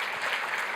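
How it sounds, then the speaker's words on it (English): Conference audience applauding at the Zabbix Summit 2023, a steady wash of many hands clapping close and fairly loud throughout the short burst, with no voices over it. "Well, applause for yourself, please, come on"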